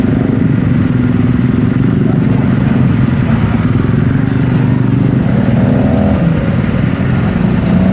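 Steady traffic of motorcycles and cars crawling past on a busy road near an excavation site, a continuous loud engine drone with mid-range revving that holds throughout, with faint voices underneath.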